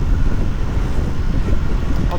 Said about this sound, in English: you're probably struggling to hear us because it is windy